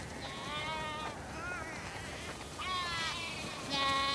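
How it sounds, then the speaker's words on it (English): Sheep in the video game The Last of Us Part II bleat repeatedly in wavering calls, several animals overlapping at moderate volume over a constant low background hum. "Wow, that's a lot of sheep."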